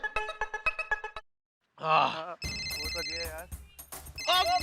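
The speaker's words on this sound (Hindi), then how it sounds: "ओ तेरा फोन बज रहा है" A telephone rings in a comedy scene, a bright repeating bell tone that opens the clip and later returns under lively voices and singing.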